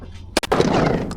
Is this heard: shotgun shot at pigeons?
yes